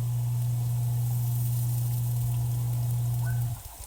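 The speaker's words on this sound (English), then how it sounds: "I wish there was a way to have less water come out." Water gushes from a tap fed by a propane tankless water heater in an off-grid tiny house, a steady loud hiss over a low hum that cuts off abruptly just before the end.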